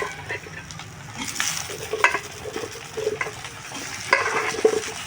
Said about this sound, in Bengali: আলুগুলো পেঁয়াজের সাথে একটু ভাজা ভাজা করে নেবো।